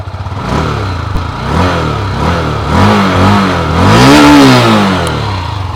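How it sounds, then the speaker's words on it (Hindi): A 2024 Honda CB300F motorcycle engine and exhaust, close and loud, idling then blipped in several rising and falling revs, the last one the highest, with no talk over it. "जो होंडा CV300F है इसकी जो साउंड है वो मैं आप लोगों को यहाँ पर सुनाना चाहूँगा।"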